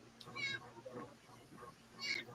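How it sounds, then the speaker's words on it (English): Two short cat meows ring out, one early and one near the end, fairly faint over a low steady hum. "Meow."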